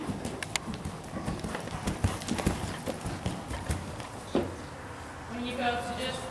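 A ridden horse's hooves clip-clop in an irregular walking rhythm at close range, with a rider talking over the steps and a brief whinny-like sound near the end.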